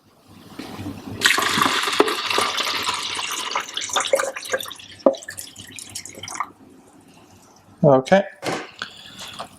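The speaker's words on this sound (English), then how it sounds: "Now we're going to put the salt water back in." Salt water splashes and trickles steadily as it is poured into a brine shrimp hatchery, with a brief spoken word and some handling noise near the end.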